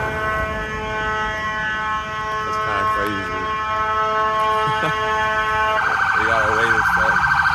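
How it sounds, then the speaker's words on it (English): Ambulance siren wailing steadily and loudly throughout as it passes by, rising into a stronger pulsing tone near the end, with someone briefly talking over it. "Hold up, there's an ambulance."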